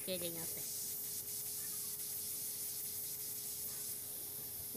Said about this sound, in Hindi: लीकेज है, आपको एयर की आवाज आएगी।